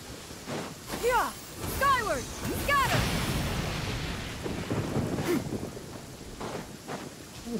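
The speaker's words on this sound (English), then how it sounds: "I do believe we are currently in a thunderstorm" Video game thunderstorm in Genshin Impact: rolling thunder rumbles through a steady rain, with a few sharp whooshing sweeps early on and a dull wash of storm noise throughout.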